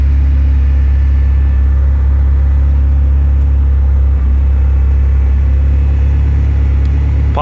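A first-generation GSX car engine idles smoothly, a loud, steady low rumble that holds evenly throughout, close by, with no voices.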